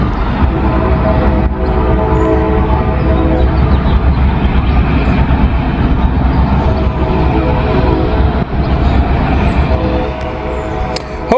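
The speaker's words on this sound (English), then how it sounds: "that train you hear is that train in Wyoming moving southbound" A heavy, steady rumble of a southbound freight train rolling past nearby in Wyoming, continuous low-pitched roar with rattling, sustained throughout without pause.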